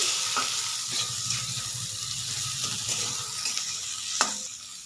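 Onions, chopped tomatoes and nuts fry in oil with a steady soft sizzle, while a spoon stirs and scrapes the pan in several quick strokes, close and with no voices.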